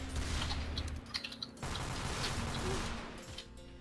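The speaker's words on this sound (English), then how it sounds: "To start firing your weapon at everything except the enemy, press your mouse 1 button and hope for the best" A weapon fires in the video game Team Fortress 2 as a rapid, clattering volley of shots, mixed with mechanical clicks and fading toward the end.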